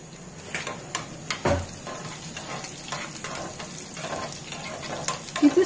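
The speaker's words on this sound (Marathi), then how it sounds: "हे मी असं छान फोडणी करून घेते।" Green chillies and peanuts sizzle gently in hot oil as a tempering for curd rice. A faint, steady fry is broken by occasional stirring clinks and knocks close by, with no speech.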